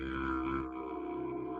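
Didgeridoo played with a falsetto growl to imitate a frog, a low droning tone with buzzy upper harmonics that shift midway, steady and moderately quiet, alone.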